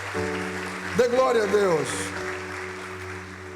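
A church congregation at a family worship service claps under a preacher's amplified voice and background music, with the applause a steady wash behind the talking.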